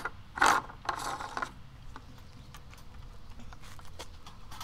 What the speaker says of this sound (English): Give that lid nice and tight.